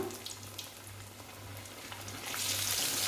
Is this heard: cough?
no